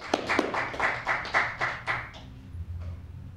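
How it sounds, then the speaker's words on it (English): An audience at a 1996 poetry reading in a library claps in a short, sharp round of applause, a handful of distinct claps that quickly taper off into room quiet. "let's give her a great round of applause"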